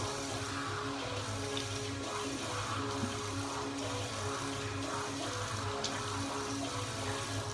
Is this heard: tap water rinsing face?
yes